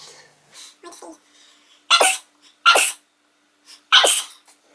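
A sneezing fit: three loud, explosive sneezes spaced about a second apart, preceded by softer sniffs and breathy catches, close to the listener.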